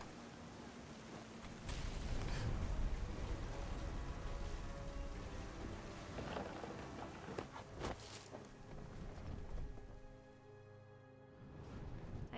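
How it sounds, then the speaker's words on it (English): Steady rain pours down through a thunderstorm in the game What Remains of Edith Finch, a dense, even hiss with brief louder gusts and no distinct thunderclap. "The thunder sounded much too close and full of angry power."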